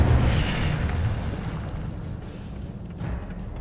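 Incendio fire spell cast in the Hogwarts Legacy video game, a muffled fiery boom that swells at the start and fades into a low rumbling burn, with no talk.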